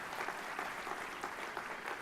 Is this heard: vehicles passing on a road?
no